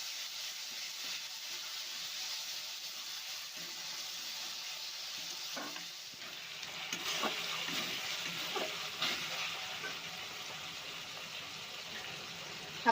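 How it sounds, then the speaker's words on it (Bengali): Ground tomato is stirred into lote fish curry frying in a pan: a steady, soft sizzle goes on throughout, broken by a few faint scraping strokes from the stirring, with no voices. "দিয়ে আবারও নাড়াচাড়া করে নেব।"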